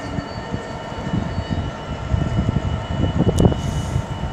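A train slows to a stop at a red signal on the West Coast Main Line at Rugby, with a rumbling, clattering low roar of wheels and carriages close by that swells slightly toward the end.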